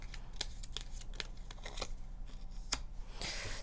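Tarot cards are shuffled and drawn by hand: a quiet run of crisp card flicks and papery snaps at an uneven rhythm over a low steady background hum, with no talking.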